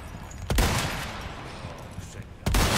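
Rifle gunshots in Resident Evil 4: two loud, sharp cracks about two seconds apart, each followed by a short ringing tail over quiet game ambience.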